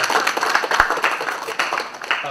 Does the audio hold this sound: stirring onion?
no